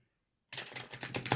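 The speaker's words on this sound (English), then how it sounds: "As I'm shuffling the tarot" Tarot cards being shuffled by hand, a dense papery riffling and flicking that starts abruptly after a brief silence and continues steadily up close.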